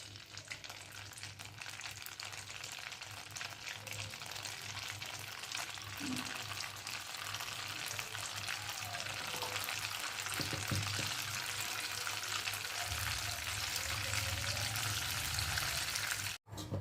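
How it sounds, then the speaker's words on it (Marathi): Cumin and mustard seeds crackle in hot oil as a pav bhaji tempering begins, giving a steady close frying hiss with faint pops over a low background hum that cuts off abruptly at the end. "आता फोडणी करून घेते."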